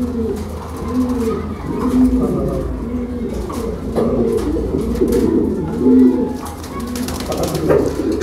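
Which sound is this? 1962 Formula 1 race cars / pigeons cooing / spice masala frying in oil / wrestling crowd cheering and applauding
pigeons cooing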